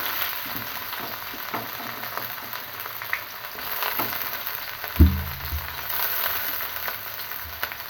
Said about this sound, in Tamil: வெங்காயத்தை போட்டு நல்லா வதக்கிடுங்க.